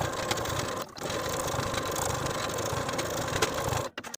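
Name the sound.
sewing machine edge stitching a jacket collar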